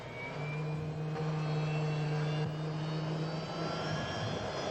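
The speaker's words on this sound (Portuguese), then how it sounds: "A esperança agora é que o barulho do helicóptero o assuste e o faça ir embora" A steady droning helicopter engine hum with a strong low tone, holding at a constant moderate level throughout, no talking.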